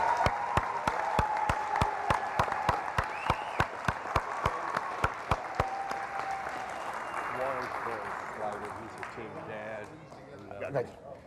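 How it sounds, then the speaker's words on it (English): Audience applause at a spring youth soccer banquet, steady crowd clapping with sharp regularly spaced loud claps from a nearby clapper through the first half, then fading into a murmur of voices. "Please join me in giving them a round of applause for their work."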